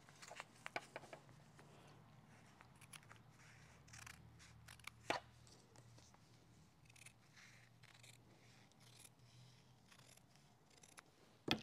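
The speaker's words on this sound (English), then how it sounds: "I'm just going to cut that linen" Scissors snipping linen fabric during hand appliqué quilt work, a series of sharp, close, irregular cuts over a faint low hum, with quiet pauses between snips.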